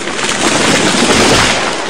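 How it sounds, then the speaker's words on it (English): A loud, dense crackling roar with a deep rumble underneath, sustained for a couple of seconds like heavy timber splintering and crashing down. "That was the sound of a tree falling."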